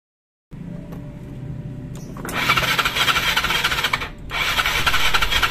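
An old Yamaha Mio scooter engine is kick-started with its spark plug removed, so it cranks without firing. Two loud bursts of mechanical cranking are separated by a brief pause, with no talking.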